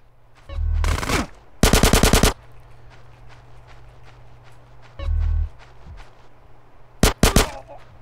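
Gunfire from the strongest weapon in GTA San Andreas, loud automatic bursts near 1, 2, 5 and 7 seconds, with quieter game ambience and scattered small sounds between bursts.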